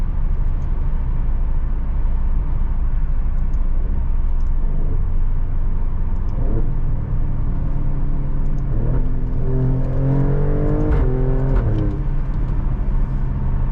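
A 2020 Alfa Romeo Stelvio Quadrifoglio engine revs hard and climbs in pitch, then quick gear shifts cut the tone sharply several times in rapid succession.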